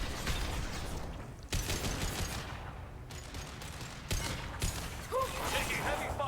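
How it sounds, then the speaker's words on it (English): Heavy, continuous gunfire in Mass Effect 2, dense bursts of shots rolling in waves with a few sharper impacts, loud and close under a busy combat mix. "Taking heavy fire!"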